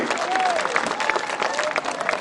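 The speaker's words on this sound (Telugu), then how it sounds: "గట్టిగా చప్పట్లు కొడతాం" A crowd at an outdoor political gathering claps steadily as ward representatives are introduced, producing a continuous, fairly loud patter of many hands, with an amplified voice carrying over it.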